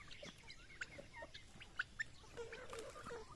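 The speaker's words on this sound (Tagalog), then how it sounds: "Naked neck natin, naked neck chicken." Naked neck chickens cluck and chirp softly in a rural farmyard. Short, scattered calls are heard at a modest distance, with a few sharper notes rising over quiet outdoor background.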